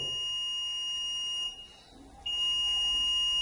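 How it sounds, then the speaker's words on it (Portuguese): A multimeter in continuity mode emits a steady high-pitched tone while its probes touch, briefly cutting out for under a second before resuming, loud and close. "ele também sinaliza através de um bip"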